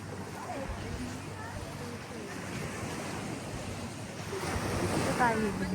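Ocean waves wash steadily onto the shore at a crowded Boracay beach, a continuous surf roar with wind buffeting the microphone, swelling louder near the end, with faint voices in the background.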